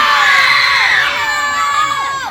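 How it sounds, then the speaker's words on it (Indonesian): A group of children screams and shouts loudly at once, as if calling for help, a dense, sustained chorus of high voices during a squatting tag game. "Silahkan teriak sekeras mungkin untuk minta pertolongan."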